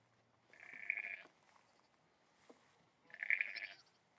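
Out on a farm where black ewes and goats are lambing and kidding, two clear bleats sound one after another with a gap of near-silence between them, moderately close and nobody talking.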